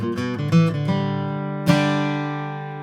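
A G run picked on guitar, a quick ascending string of plucked notes followed by a final struck chord that rings out and slowly decays, close and solo.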